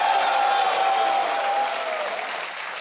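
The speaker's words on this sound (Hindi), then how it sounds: "एक बार तालियों के साथ इनका फिर अभिनंदन हो जाए।" A studio audience on a TV quiz show applauds, a dense, steady roar of clapping that starts loud and fades slightly toward the end.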